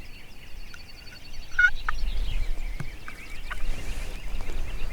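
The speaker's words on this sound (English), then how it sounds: "I don't think the big turkeys like that gobbling." Wild turkey gobbling during a Texas spring turkey hunt, a distant warbling call repeated a few times over faint outdoor ambience, with soft rustling in the foreground.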